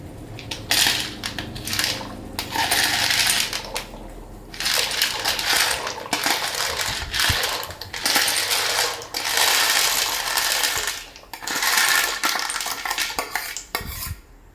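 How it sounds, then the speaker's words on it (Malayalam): Dry pasta is poured into a pot in repeated bursts, a bright rattling clatter of hard pieces hitting metal. Short pauses separate the pours, and the sound is close and loud. "ഇനി ഇതിലോട്ട് നമുക്ക് പാസ്ത ചേർത്ത് കൊടുക്കാം."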